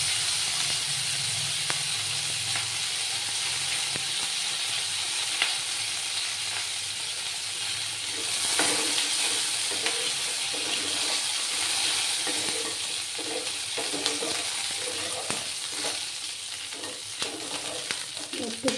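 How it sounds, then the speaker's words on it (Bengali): Curry leaves sizzle in hot oil over a lowered gas flame while a semolina and potato snack is prepared; a steady, close frying hiss runs throughout, with sharper crackles and spits breaking out after the leaves go in. "আর দেব কারি পাতা দিয়ে দেব।"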